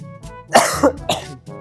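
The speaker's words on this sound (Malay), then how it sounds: "Aku batuk guys." A few sharp, raspy coughs in quick succession, close and fairly loud, with brief quiet gaps between them.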